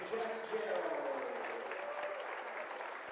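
A big crowd fills a high school gym with steady, sustained applause during a Meadowbrook Colts vs Cambridge Bobcats basketball game, with voices mixed into the clapping throughout.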